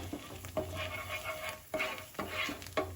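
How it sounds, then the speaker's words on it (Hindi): Pav buns being tossed and warmed in a pan with melted butter and pav bhaji masala, giving a steady close sizzle and fry crackle broken by soft scraping stirs and clinks of a utensil against the pan. "अब हम पाव को जो है गरम कर लेते हैं इस मसाले के साथ में।"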